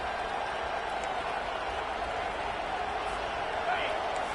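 Steady roar of a college football stadium crowd, a dense, continuous wash of cheering and noise that stays level throughout.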